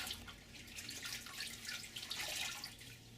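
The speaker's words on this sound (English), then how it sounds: "I'm going to rinse it out." Washcloth rinsed in a basin of water during a bed bath, faint sloshing and dripping that runs steadily for a few seconds with no talking.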